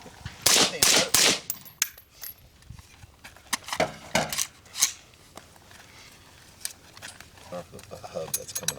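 Suppressed rifle shots fired through a can suppressor in a suppressor comparison, with a low, boomy crack; two loud reports come close together early, followed by lighter, sharper hits, while people talk between them.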